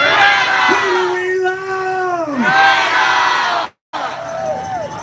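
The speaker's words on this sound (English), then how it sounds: "This crowd is rocking today." A large outdoor crowd at a climate strike rally in Charlotte, headlined by Greta Thunberg, roars with loud, sustained cheering and whooping in long rising and falling waves, broken by one brief silence near the end.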